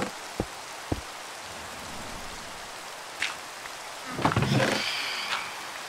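Soft, steady rainfall patters throughout in Minecraft, broken by a few sharp thumps and a brief burst of louder rustling and chirpy noise near the end.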